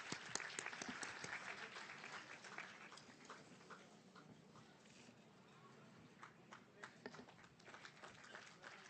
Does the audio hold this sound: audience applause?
yes